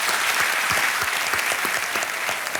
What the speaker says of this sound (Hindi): और इनके लिए एक बार जोरदार तालियां बज जाएं